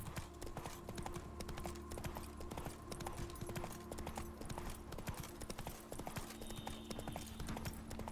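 Horse hooves clip-clop in a steady rhythm in The Witcher 3: Wild Hunt, Blood and Wine, with game music and ambience running beneath the hoofbeats.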